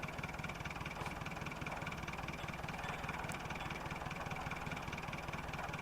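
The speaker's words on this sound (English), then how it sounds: "nothing like driving a tractor around the place" A tractor engine runs in the Farming Simulator 2011 video game, a steady, moderately loud low chugging that holds at an even pace throughout without any talking.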